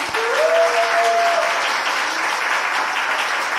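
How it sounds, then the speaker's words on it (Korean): Sustained applause from a church congregation welcoming a guest pastor at a teachers' revival service, a dense steady clatter of many hands at full volume throughout, with a brief tonal voice or sound near the start. "박수로 환영합니다."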